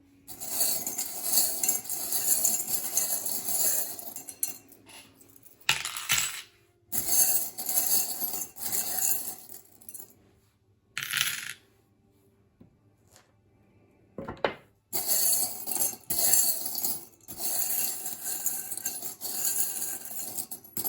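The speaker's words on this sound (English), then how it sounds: "it might get a little bit loud when I mix the charms" Small metal charms are mixed by hand, clinking and jingling together in repeated bursts separated by short quiet gaps, close and fairly loud, with no talking.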